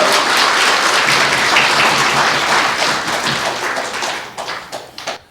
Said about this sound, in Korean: 여러분들 오늘 박수 주셔서 감사합니다만